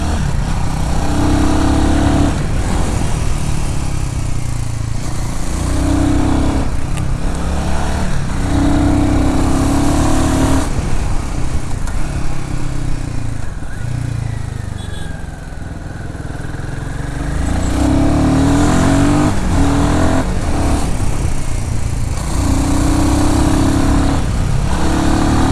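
A Royal Enfield Himalayan 450 adventure motorcycle engine drones steadily throughout the ride, a loud, continuous mechanical hum that dips briefly midway before picking back up, with no talking.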